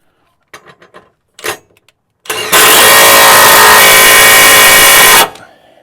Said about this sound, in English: tightest setting on your impact and go until it stops spinning